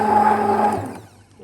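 A blender motor whirs steadily as it blends anjeero (Somali flatbread) batter mixed with water, a loud close hum that cuts off just before the end.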